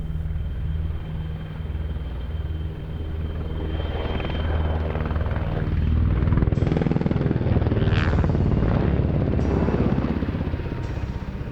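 A Czech Air Force W-3A Sokol helicopter's heavy rotor thump and engine roar build steadily, loud and rumbling as it flies nearby in an air show display, with no voices.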